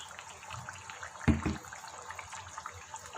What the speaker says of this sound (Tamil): இப்போவே நம்ம இந்த எடுத்து வச்சுருக்க தேங்காய் பாலை உள்ளே சேர்த்துடலாம்